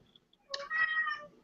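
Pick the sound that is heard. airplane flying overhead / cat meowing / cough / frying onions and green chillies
cat meowing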